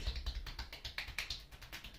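Fists drum rapidly on a person's back during a percussion massage, a close, steady series of soft thumping taps in quick rhythm, with no talking.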